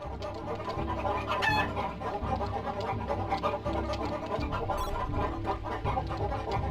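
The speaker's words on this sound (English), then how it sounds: "I hope someone explained to Callus why we are collecting chickens." Chickens clucking in the Baten Kaitos video game, a steady stream of game-audio fowl clucks layered over continuous background music, fairly loud and unbroken, with no talking.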